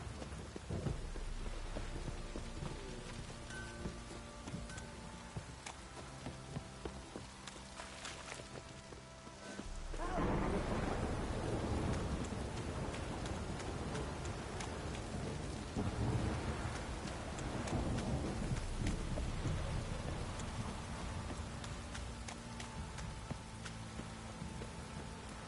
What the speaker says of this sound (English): Wizard Druid, this downpour's a bastard, it is.